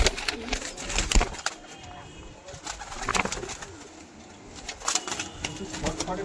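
A pair of pigeons at a pigeon show and sale in Howrah coo in soft, low, rolling calls, with brief rustles and wing flutters in between, heard up close.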